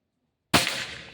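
A single sharp air rifle shot from a Pajerogun Gen 5 cracks out close and loud after a stretch of silence, followed by a brief decaying ring.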